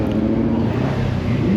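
A Formula racing car, a McLaren M18, runs its engine loudly and nearby at the Shelsley Walsh hillclimb, giving a steady, throaty roar for a short moment.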